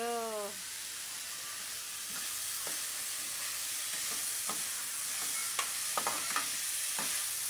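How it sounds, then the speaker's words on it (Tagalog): Kangkong (water spinach) stems sauté in a pan, giving a steady soft sizzling hiss with scattered light clicks and scrapes of stirring. A brief tonal sound opens the scene, and no one speaks. "Ang palanglang manubo, nagigisa ng katawan ng kangkong"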